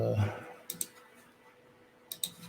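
Keys clicking on a new computer keyboard, two quick pairs of sharp clacks spaced about a second and a half apart, fairly close, after a brief murmur of voice at the start.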